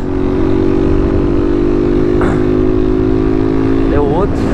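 A motorcycle engine drones loudly and steadily up close, its pitch rising briefly as it revs while passing through traffic, with voices faintly underneath.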